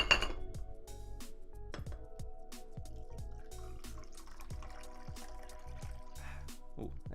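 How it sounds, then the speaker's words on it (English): Tea being made and poured into a teacup: light clinks of glass and china mix with dripping, trickling liquid, soft and close, in a quiet room without talk. "You're just in time to hear me making my tea and pouring it in my teacup."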